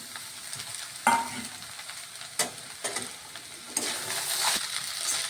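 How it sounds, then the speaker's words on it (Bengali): Fried rice with carrots, peas and fried egg is stirred in a hot pan. A constant sizzle runs under intermittent clanks and scrapes of the spatula, and the frying grows louder and hissier toward the end. "এবার নাড়াচাড়া করে এবার নামিয়ে নিব আমরা। ভালো করে ভাজা হয়ে যাবে।"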